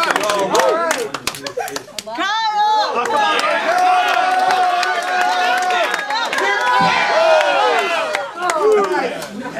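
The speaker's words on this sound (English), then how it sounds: "Y'all are like a 4 out of 10 on the cheering." A school-reform event audience cheers and claps in a sustained, moderately loud wave, with shouts, whoops and voices mixed throughout, dipping briefly before swelling again.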